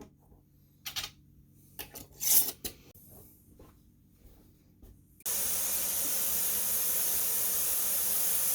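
A few soft clanks and handling noises, then a pressure canner, loaded with jars of chili, starts to steam: a loud, steady hiss bursts on and keeps going without a break.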